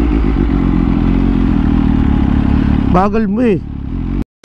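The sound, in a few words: MV Agusta F3 sport bike engine while riding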